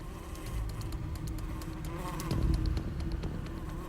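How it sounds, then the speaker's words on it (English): A housefly buzzing indoors in a house living room, a faint, steady hum swelling slightly midway through, with light scattered clicks and patter in the background. "I hear a buzzing sound."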